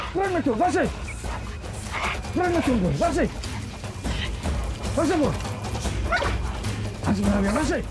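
A tracking dog barks and whines repeatedly while searching for a pretend poacher hidden in a tree during anti-poaching ranger training, with several bursts of barking and yelps close by over a steady low rumble.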